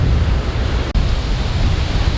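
Strong wind at Surya beach buffeting the microphone, a loud continuous low roar with one brief dropout partway through.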